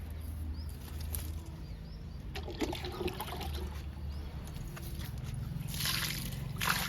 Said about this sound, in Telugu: లాస్ట్ మొక్క అండి. అన్ని మొక్కలకి ఇచ్చేసాను కిచెన్ వేస్ట్ లిక్విడ్